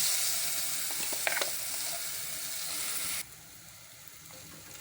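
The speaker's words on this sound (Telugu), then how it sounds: "ఇప్పుడు పసుపు కూడా మగ్గిపోయింది కాబట్టి ఇక కొబ్బరి చట్నీ వేద్దాం" Coconut chutney sizzles in a hot pan with turmeric, a steady bright frying hiss with a few scraping clinks, then the sizzle drops sharply quieter near the end.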